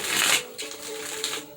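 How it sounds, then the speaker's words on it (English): Tarot cards being shuffled, a brief riffling burst followed by softer papery flicks and a second quick riffle, close and quiet. "Let's get 3 more shuffles."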